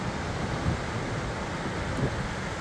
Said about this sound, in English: wow, there's some big waves